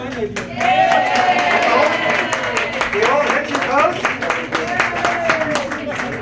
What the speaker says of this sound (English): Let's give a good round of applause to Andrea.